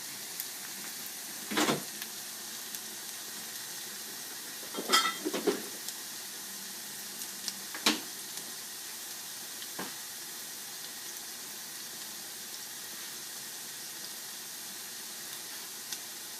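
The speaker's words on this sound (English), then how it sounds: "my son will let you all see it continuing to fry" Stuffed salmon cakes frying in oil in a pan give a faint, steady sizzle, broken by a few sharp clinks and scrapes of utensils against the pan.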